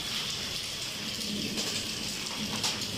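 Hailstones falling mixed with rain, making a steady, dense patter with sharper ticks striking surfaces such as a room cooler, heard moderately close with no talking.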